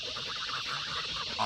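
Fluffy baby geese on a homestead give soft, high peeping calls, a brief cluster of small chirps close by against a steady background hiss.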